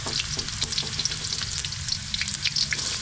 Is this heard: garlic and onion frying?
yes